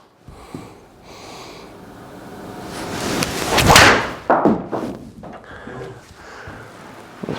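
A golf ball is hit with a TaylorMade club with a carbon head and black gloss top: a fast swooshing swing rises to a sharp strike, with rustling and breathy handling noise before and after outdoors.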